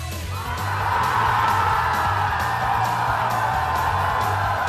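A rugby league crowd roars and whoops as their side takes the lead late in a tight match, a dense, loud wall of cheering that swells after a brief quieter start and holds steady.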